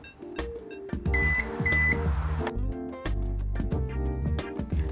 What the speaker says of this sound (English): Close the tailgate after hearing the buzzer sound.